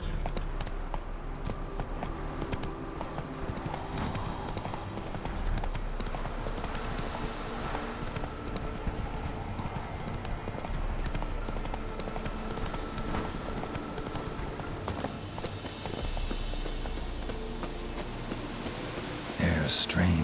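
Horse hooves gallop in The Witcher 3 video game, a steady, continuous clip-clop running the whole length under the game's ambient sound and a faint murmur.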